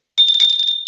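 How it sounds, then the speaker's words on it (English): A small bell rung to mark a finished cross-stitch piece gives a bright, sustained ring that starts suddenly and stays loud and close, with no talk over it. "I get to ring a bell."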